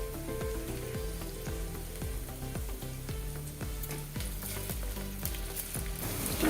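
Curry leaves sautéing in hot oil for Maharashtrian masala rice, a steady close sizzle running throughout beneath rhythmic background music with a repeating beat.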